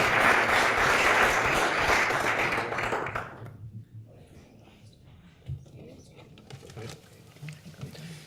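School board meeting audience applauding fall sports award recipients, a dense round of clapping that fades out after about three seconds, leaving quiet room noise and faint talk.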